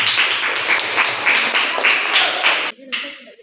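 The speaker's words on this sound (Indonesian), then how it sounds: "Tepuk tangan dulu untuk kelompok 1." Applause from a classroom audience for a student group after its presentation on aeroplane theories and inventions, a dense patter of many hands that stops abruptly near the end, leaving faint murmuring.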